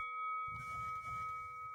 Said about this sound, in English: We got the boxing bell, guys.